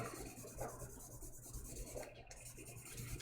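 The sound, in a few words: wet sanding with 1500 grit sandpaper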